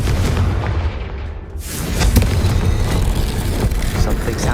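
A Confringo fire spell explodes in the video game Hogwarts Legacy, a loud booming blast that swells into a sustained rumbling roar, heavy low end filling the scene.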